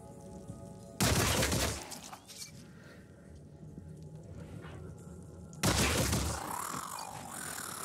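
Bursts of gunfire aimed at a target in the tactical game Phoenix Point, heard as two loud, dense volleys of rapid shots a few seconds apart, close and sharp, with softer battle ambience between them and no talking.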